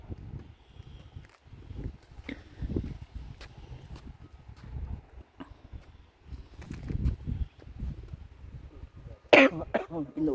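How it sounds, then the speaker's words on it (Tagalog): Several rough coughs come in bursts, fairly quiet, against faint outdoor background with cold autumn wind and some voice, with a sharper sound near the end. "Inuubo ako."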